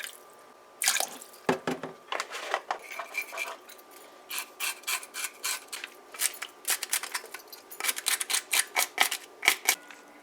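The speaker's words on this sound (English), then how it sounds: "The first thing she's going to do is wash our fish." Water from a tap splashing and dripping as butterfish are washed in a sink for stew, in irregular wet bursts and rubbing sounds, close and fairly loud with no talk.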